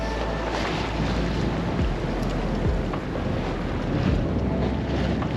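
Strong wind roars steadily across the microphone aboard a sailboat under full sail at sea, heading back toward Brighton past Portsmouth, with a constant low rumble of water and hull beneath, loud and continuous throughout.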